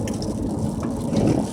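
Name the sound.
rain falling on a car during a Texas blue norther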